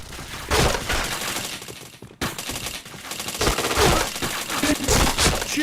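Rapid automatic gunfire rattles in bursts from a shooting video game, loud and close, with sharp shots and a brief pause before the firing resumes.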